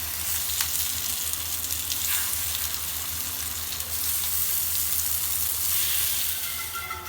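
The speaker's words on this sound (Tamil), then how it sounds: "இப்போ தோசையில் எண்ணெயை ஊற்றி இன்னும் இப்படியே போட்டு பிரட்டி எடுத்துடலாங்க." Raw banana slices frying in oil on a dosa tawa, a continuous dense sizzle with a low steady hum beneath, close and fairly loud throughout.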